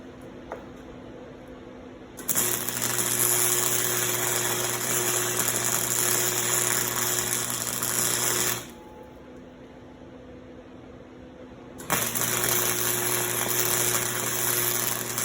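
Welding on a small heart-shaped chain necklace holder gives a steady electrical hum and hiss in two long stretches, broken by a quieter gap, close and fairly loud.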